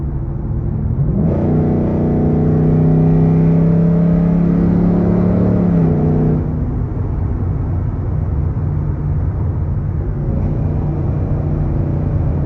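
A 2023 Ford F-150 with the 5.0 V8 and a JLT cold air intake revs hard for about five seconds, a loud rising and falling engine howl, then settles into a steady cruising drone with road noise and no talk.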